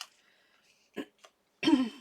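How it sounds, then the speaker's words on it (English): Someone clears their throat with a couple of short rasps, then a louder, harsher throat clear near the microphone. "sorry, I'm gonna have to clear my throat every once in a while"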